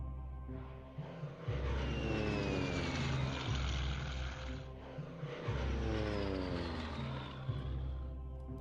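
Propeller warplane engines drone loudly in the Hex of Steel wargame as an aircraft attacks British positions in North Africa, a steady roar with rising and falling pitch sweeps as planes pass, alone without talk.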